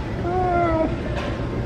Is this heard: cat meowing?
yes